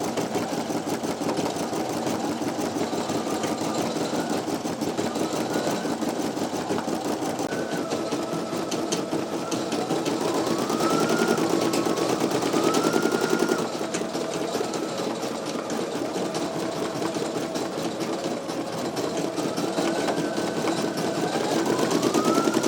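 Two Brother embroidery machines, a PE900 and an NQ1700E, run together, giving a continuous dense mechanical whir with rapid stitching and occasional rising motor tones, steady and close throughout.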